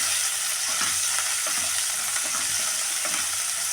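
Toor dal frying in a little oil in a pan, a continuous bright sizzle with faint stirring scrapes, close and steady, no voices.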